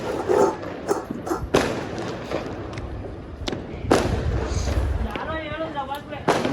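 Several sharp bangs of firecrackers bursting at irregular intervals on New Year's Day, some near and some farther off, amid crowd noise and a dog barking.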